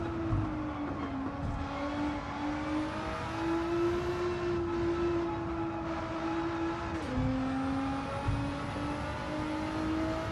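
A Nissan GT-R race car from Gran Turismo 7 on the Tokyo circuit holds a steady, loud engine drone with shifting pitch as it brakes and powers through corners, continuous for about ten seconds.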